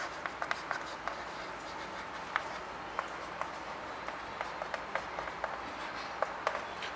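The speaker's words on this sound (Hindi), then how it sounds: "इधर लिख लेते हैं" Chalk or marker writing letters on a classroom board during a maths lesson, a quiet series of short taps and strokes in an irregular rhythm, heard up close without talk.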